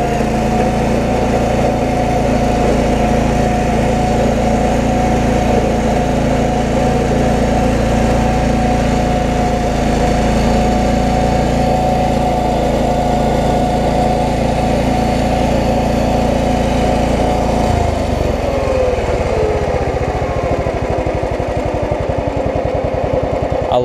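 An old Kohler engine on a Cub Cadet 1320 riding mower idles loudly and close with a steady, even drone, then its pitch drops and the note shifts near the end as the throttle changes.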